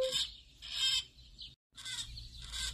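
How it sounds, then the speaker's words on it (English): A chicken clucks in short repeated bursts, two clusters separated by a brief silence, close and clear with no speech. "Chuck McClucksky, who just so happens to be a chicken?"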